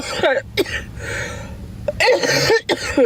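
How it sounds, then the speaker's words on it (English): A couple of harsh coughs break out amid brief bursts of talking, close to the listener, with a quieter pause in between. "I have that bad cough"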